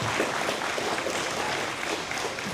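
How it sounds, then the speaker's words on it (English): Steady applause from an audience honoring a man's bravery at a recognition event, a dense even clatter of clapping that holds without pause. "One big round of applause."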